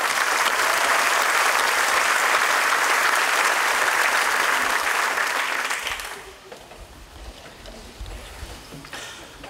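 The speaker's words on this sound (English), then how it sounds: "Let's give them a round of applause." A crowd at a scholastic sports fish fry applauds steadily for about six seconds, then the clapping fades out to quiet room noise.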